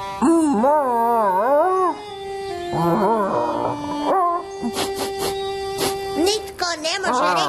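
A cartoon dog whimpers and howls in long wavering tones, with yips and whines in between, a character's voice imitating the dog up close and alone.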